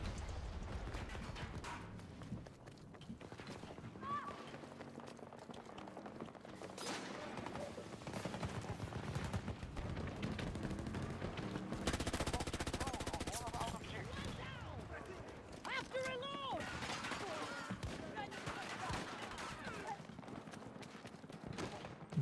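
Hipfired P90 submachine gun in a video game, firing rapid bursts of shots over a busy, dense backdrop of battle noise, with someone speaking intermittently over it.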